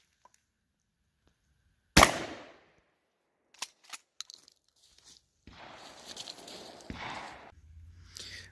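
A Weatherby Reaper 12 gauge tactical shotgun fires 7.5 shot at a tactical range, heard as one loud close blast after near silence, then a few sharp mechanical clicks and a rustling hiss.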